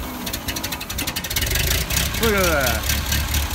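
A homestead tractor engine cranks with a fast rhythmic chugging, then catches and settles into a rough idle, with voices talking over it.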